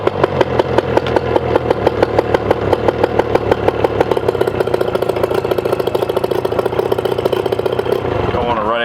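A two-stroke outboard boat motor on a home-built jon boat starts up and runs with a rapid, rhythmic putter close by, revving near the end, while a person talks over it.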